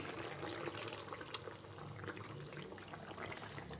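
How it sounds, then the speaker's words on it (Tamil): Cooked moong dal pours steadily into a pot of boiling sodhi kulambu, a soft continuous splashing with faint clinks, no voices. "இப்போ வந்து நம்ம வேக வச்ச பாசிப்பருப்பு ஊற்றிக்கலாம்."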